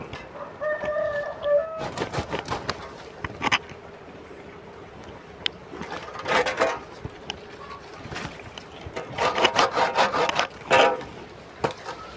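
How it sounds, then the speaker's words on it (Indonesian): Rhythmic scraping strokes of a hand saw cutting through a vanilla plant stem, in several bursts, with a rooster crowing briefly at the start. "Kita akan menggunakan gergaji ini karena tidak bisa kita jangkau kalau menggunakan gunting stek."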